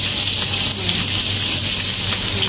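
Small shallots hit hot oil and erupt into a loud, dense, continuous sizzle, a bright hiss that stays steady and close without pause.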